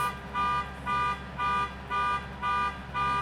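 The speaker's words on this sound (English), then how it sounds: "People with car alarms," A car alarm goes off nearby with a regular pulsing tone, six or so even bursts repeating about every half second, loud and clear with no talk over it.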